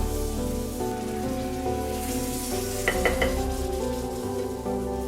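An omelette sizzles steadily in a frying pan as it is folded, a soft continuous crackle with a few light scraping clicks, under quiet background music.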